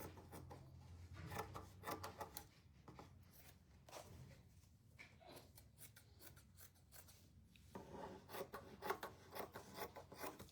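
Repeated rasping snips and rubbing scrapes of scissors working through paper, close by and fairly quiet, in an irregular rhythm with brief pauses.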